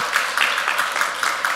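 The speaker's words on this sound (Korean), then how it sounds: "우리 박수 한번 주시고" A church congregation applauds during a Sunday worship service, a steady wash of clapping with slight swells lasting the whole short moment, fairly close and without talk over it.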